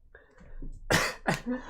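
A person coughs after choking on water, two sharp, harsh coughs close to the microphone following some faint throat sounds.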